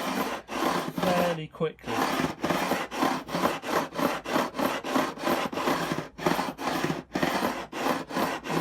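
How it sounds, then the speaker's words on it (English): A coarse grit file rasps across the neck of a 1962 Hofner Verythin guitar during refretting, in fast, steady back-and-forth strokes, about a dozen or more, close and scratchy, with a brief spoken word partway through. "So this is the coarse grit file."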